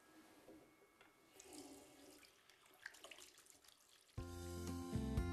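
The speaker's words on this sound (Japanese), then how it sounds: "作業後は手をしっかりと洗います。" Running tap water splashes as hands are washed after cleaning and disinfecting work at home or in the office, a soft low wash that swells into a louder, steady gush near the end.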